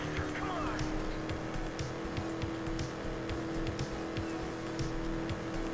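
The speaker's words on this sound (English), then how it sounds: "Send out that damn engine purr." Racing video game car engine droning steadily throughout, loud and close, with tire and crash noises over it and a player's voice talking under the game sound.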